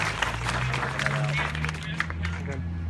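An outdoor vigil audience claps in a loose, moderate patter over a low steady hum, with crowd murmur mixed in, spread across about three seconds.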